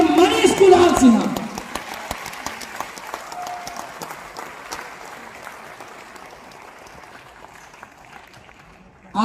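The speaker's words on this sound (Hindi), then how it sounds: "मैं यहां बैठे हर एक व्यक्ति से चाहूंगा कि उनके लिए एक जोरदार वाली ताली बजाएं, मिस्टर मनीष कुणाल सिन्हा।" Loud audience applause fills a business leadership event hall, with a burst of clapping and cheering at the start that fades into sustained, softer clapping from a seated crowd.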